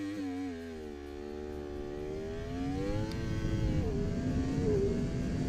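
Motorcycle engine on launch control, clutch held as the throttle is opened fully and revs climb toward 10,000 rpm, a rising buzzing whine that swells louder and settles into a rough, high sustained drone.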